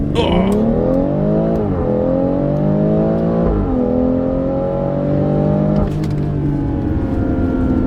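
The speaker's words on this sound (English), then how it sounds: "mash the throttle, mash the brake, build up the RPMs" A loud BMW X3 M40i engine with a Flasher tune revs high and holds, its pitch rising and dipping in surges while straining against the brake, with no talk.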